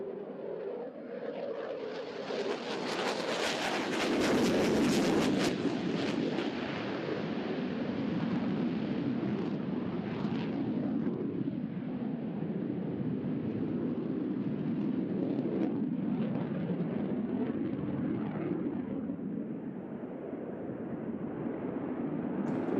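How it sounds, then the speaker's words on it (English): A naval jet at the NAS Oceana air show roars past from the right, a loud broadband rush that swells early, then holds as a long fading rumble with no voices. "as the aircraft approaches from the right"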